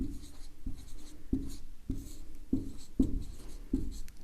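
Chalk or marker strokes on a board during a Hindi grammar lesson, a series of short scratchy taps and swipes repeating in an uneven rhythm, close and fairly clear with no talk over them.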